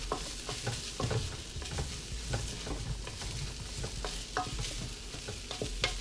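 Garlic sautéing in a pan for vegan chili, heard as a dense, close sizzle broken by repeated spoon scrapes and stirring strokes, with no voices.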